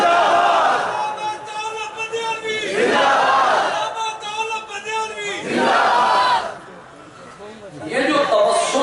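A large crowd at a 2021 religious gathering in Gujrat chants slogans together, loud massed voices rising in repeated swelling bursts with brief lulls between them, close and dense.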